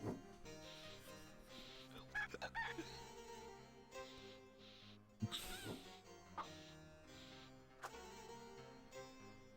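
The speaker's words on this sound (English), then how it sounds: "The rooster is a little bit drunk." A drunk rooster crows in the Discworld 2 video game, a few wobbly, stretched calls set over a steady bed of game music, with a sharper burst partway through.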